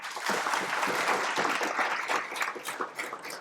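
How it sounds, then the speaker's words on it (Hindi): A seated group claps for a student in a Vedic teaching session, a quick, fairly faint patter of many hands that swells and then thins out. "रवीना जी के लिए एक बार ताली बजाओ।"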